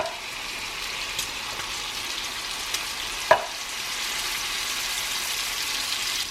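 Drained green beans tumble into a hot frying pan with a steady, broad sizzle throughout and a single sharp clatter near the middle as they land.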